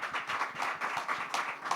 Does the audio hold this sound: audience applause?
yes